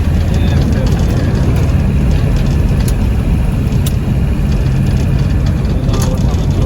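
A 1990 Land Rover Defender 110 with a 200tdi diesel engine pulls uphill in third gear, its heavy low engine rumble steady and loud from inside the cab, with some talking.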